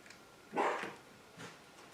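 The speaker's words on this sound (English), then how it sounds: "now my dog is going to bark" A dog in a home crafting room gives two faint, short barks some distance away, in otherwise quiet surroundings.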